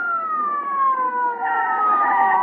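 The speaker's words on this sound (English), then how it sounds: "Here comes the ambulance." A loud, steady wailing ambulance siren in a 1948 radio comedy show, with a slowly falling pitch, close by and continuous throughout.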